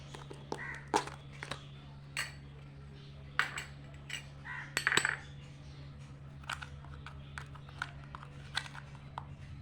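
Raw mango ice cream mixture being stirred with powdered sugar in a bowl, with sharp intermittent clinks and scrapes of a utensil against the dish, fairly close and moderately quiet, over a steady low background hum.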